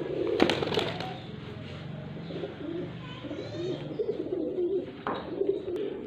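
Pigeons coo in low, soft, repeated murmurs at moderate distance, with a couple of sharp knocks or flutters among them.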